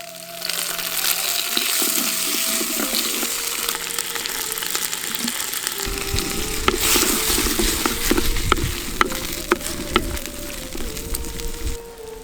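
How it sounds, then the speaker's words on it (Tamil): Tomatoes and small onions sauté in a hot pan for a mutton kothu kari masala, giving a steady close sizzle with scattered sharp crackles and stirring clicks that grow denser and louder partway through. "தக்காளி ரெண்டையும் சேர்த்து அரைக்கிறதுக்காக வணக்கி எடுத்துக்கலாம்."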